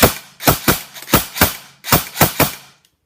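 An ICS UK1 Captain airsoft rifle on a 7.4 V battery firing single shots on semi-automatic: about eleven sharp, snappy cracks at an uneven pace, close and loud, with no talking.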